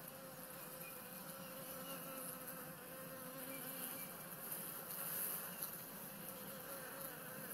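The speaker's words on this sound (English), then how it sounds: "They seem like really gentle bees." A honeybee swarm being caught buzzing continuously, a dense, even hum of many bees close by, fairly faint and without talk.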